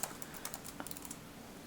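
Quick, irregular keystrokes on a computer keyboard, a short close burst of clicky taps that thins out near the end, with no voices.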